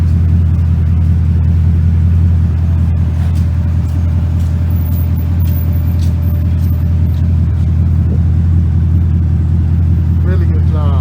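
Chevrolet Camaro SS V8 engine through an NXTSTEP performance axle-back exhaust, giving a loud, steady low rumble that swells slightly as it revs, close by and continuous throughout.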